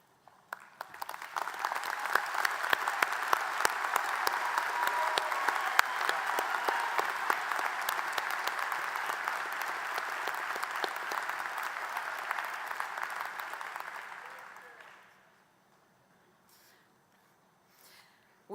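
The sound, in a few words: audience applauding graduates at a commencement ceremony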